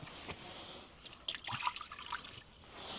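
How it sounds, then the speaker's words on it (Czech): Water is poured into a bowl during a morning animal feeding, a faint soft trickle with small splashy drips over quiet outdoor background, no voices. "První miska, naliju tam vodu."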